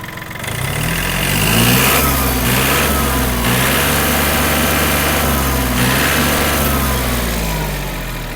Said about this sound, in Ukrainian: Давайте ще дамо газку, подивимося на виклик.